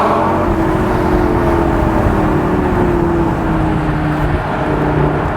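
A Lamborghini Gallardo LP560-4 Spyder on a test drive gives a loud, sustained engine drone as the throttle is held, its pitch easing downward over several seconds with strong road and wind rumble and no talk.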